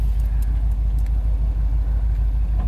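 A Chevy engine with a misfire idles after an engine swap, a loud, steady low rumble close to the motor with a faintly uneven pulse and no talking.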